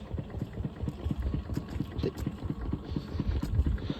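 A farm water pump engine runs beside a wheat field with a steady, rhythmic chugging throb at moderate volume, heard alone without speech.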